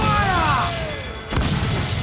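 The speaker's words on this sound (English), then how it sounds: "Those cannons have a long... Fire!" Ship cannon fire in Assassin's Creed Black Flag: a descending whistle fades, then a single sharp booming blast lands near the end, heard alone without talk.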